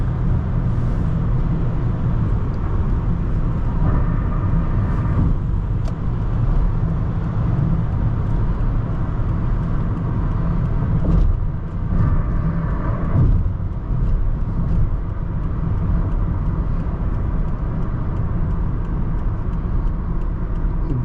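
A 2010 Lexus ES350 drives and accelerates, heard from inside as a steady, smooth low rumble of engine and road noise that holds level throughout with faint shifts in tone.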